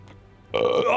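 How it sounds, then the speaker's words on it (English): A single loud, close burp from a man, rising abruptly after a faint quiet stretch and holding briefly, with no speech over it. "I had a burp because I'm Scottish and I drink beer all day"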